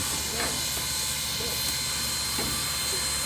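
1911 steam locomotive departing at a rail camp, a loud continuous steam hiss with a couple of short puffs or bursts, close and steady throughout.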